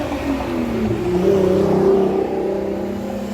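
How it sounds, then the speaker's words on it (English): Traffic at a city bus stop in Seattle, with a car engine revving and accelerating close by, a steady loud whir swelling through the middle and easing off toward the end. "I'm not sure if you're going to be able to hear me because I am in a bus stop"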